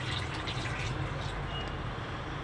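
Water is poured into Malvani chicken gravy, a cooked chicken and roasted masala mixture in a pot, giving a steady, continuous splashing and gurgling wash that lasts the whole moment without any talk.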